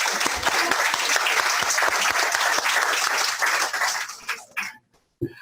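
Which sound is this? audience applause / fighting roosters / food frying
audience applause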